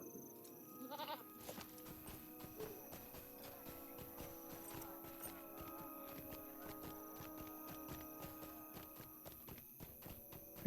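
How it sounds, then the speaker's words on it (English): Horse hooves clip-clopping in the online game LOTRO as a mount is ridden through a town: a steady, faint rhythm of hoofbeats over layered game ambience, with a slight bleating quality. "Let me get on a horse since we're in town."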